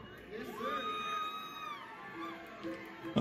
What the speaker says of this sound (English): I'm sorry, the crowd's so loud.